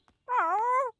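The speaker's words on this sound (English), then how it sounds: "Orange Kitten." A kitten gives a single clear, drawn-out meow, close and alone for about half a second.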